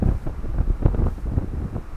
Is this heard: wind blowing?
yes